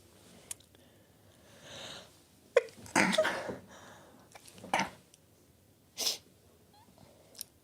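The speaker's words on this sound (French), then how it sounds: "Sorry, désolé pour l'éternuement." One sharp human sneeze, close and loud, with a few softer breaths, sniffs and small snorts scattered around it in an otherwise quiet room.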